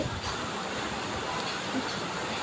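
A small zoo train rolls slowly, giving a low steady rumble with faint hiss and rattling, heard from inside the carriage at a constant moderate level.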